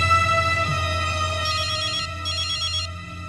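An electronic phone ringtone plays continuously, a repeating melodic pattern of bright tones, clear and moderately loud with no talking.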